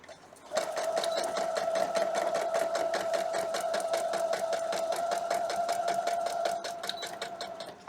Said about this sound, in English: I'm sewing on the line between B1, 2 and 3.